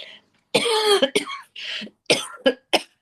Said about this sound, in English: And I notice I'm coughing while I'm saying that.